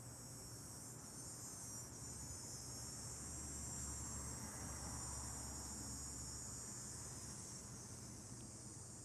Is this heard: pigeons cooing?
no